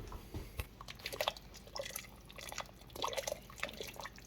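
Liquid pours and drips into a pot of homemade chicken wild rice soup, with soft intermittent splashing and trickling close by, no talking.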